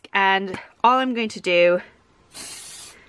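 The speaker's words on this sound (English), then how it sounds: "is just set them with a little bit of hairspray" Clubbers hairspray sprayed from an aerosol can, one short close hissing burst lasting about half a second, right after a woman's speech.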